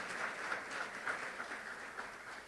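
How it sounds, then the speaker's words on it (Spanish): A church congregation applauds together in a steady, continuous wash of clapping that sounds fairly faint and distant and lasts the whole moment without a break. "Le damos un fuerte aplauso a Dios y a ustedes que están aquí."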